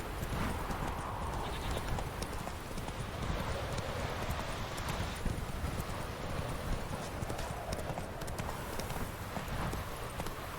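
Roach, the horse in The Witcher 3, gallops with a fast, steady clip-clop of hooves that continues without a break, fairly loud and close.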